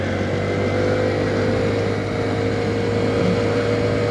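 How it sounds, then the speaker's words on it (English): A motorcycle engine holds a steady, somewhat tinny drone on a hairpin bend along Thailand's Mae Hong Son Loop, loud and close throughout with a constant pitch and no talking. "Can you hear this bike makes this reasonably nice sound? It's still a little bit tinny, but it's got that build up of the revs"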